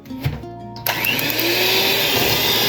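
An electric mixer beats eggs for Easter paska dough in a home kitchen, a close, loud, steady whirring drone that kicks in abruptly after a brief quieter moment and runs on evenly.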